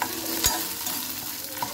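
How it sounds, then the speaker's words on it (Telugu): Black sesame seeds sizzle and crackle in a hot pan for a pendalam chutney, a steady close frying hiss with a stir and a couple of scraping clicks. "ఇప్పుడు ఒక 1/2 టీ స్పూను నల్ల నువ్వులు వేసుకున్నామండి"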